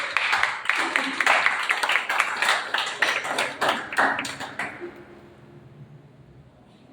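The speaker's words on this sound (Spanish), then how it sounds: "Denles aplausos al Señor." A church congregation claps in dense, rapid applause that holds strong for several seconds, then thins out and fades to quiet room tone near the end.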